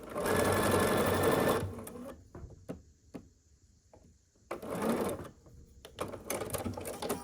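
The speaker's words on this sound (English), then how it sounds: "we just need to sew the final 2 seams" A sewing machine stitches quilt block seams for a friendship star variation block, running in two close, rapid whirring bursts separated by a quiet pause filled with small clicks and handling sounds.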